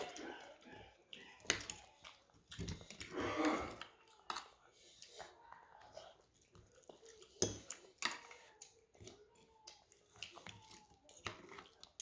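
Jaw noises and small clicks of food being chewed during a twins' home mukbang meal with meat and cabbage, soft and close, broken by bursts of conversation and the tap of utensils.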